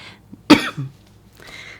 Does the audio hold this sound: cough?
yes